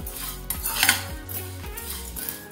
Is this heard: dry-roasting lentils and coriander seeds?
yes